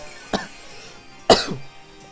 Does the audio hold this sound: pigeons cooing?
no